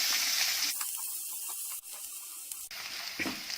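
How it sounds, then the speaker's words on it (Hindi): Onion and green chilli frying in a pan over low-medium heat, giving a steady, close sizzle and hiss that dips briefly in the middle, with faint stirring scrapes. No one speaks. "और हरी मिर्च डाल देंगे, अच्छे से मिक्स करेंगे और प्याज को हल्का गुलाबी होने तक पकाएंगे।"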